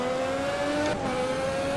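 Racing car engines from the Automobilista sim racing game, 1988 Formula 1 cars at the Austrian circuit, hold a steady, loud high-pitched drone with a brief dip midway, continuous and without talk.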